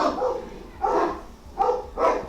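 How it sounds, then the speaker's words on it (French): Several dogs bark in repeated sharp bursts, four separate barks at uneven intervals, moderately loud and somewhat distant, with no voices over them. "Il faudra peut-être que je coupe le volume des chiens"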